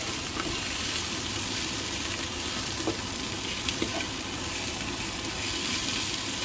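Onions fry in a pan for abgoosht, turning golden, giving a steady, even sizzle with a few faint stirring clicks, close and continuous with no talk.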